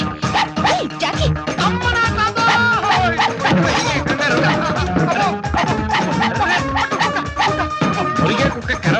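A dog barks and yips repeatedly in a Telugu comedy film scene, loud rapid barks layered over music and overlapping voices.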